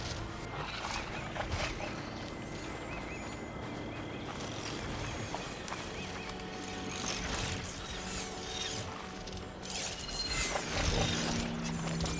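A robotic machine creature in Horizon Forbidden West moves with steady mechanical whirring and ratcheting, metallic clanks and rhythmic stomping footfalls layered over a continuous game soundscape, fairly quiet and without talk.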